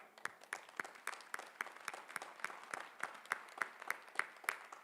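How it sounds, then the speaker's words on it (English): Rhythmic, evenly spaced clapping at a university commencement ceremony, sharp distinct claps repeating at a steady beat, heard from some distance and moderately quiet. "We applaud you."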